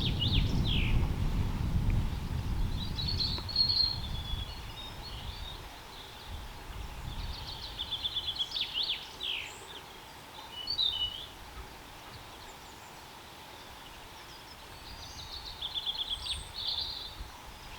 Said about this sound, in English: listen to the sound of the birds and the little brook babbling underneath into the valley bottom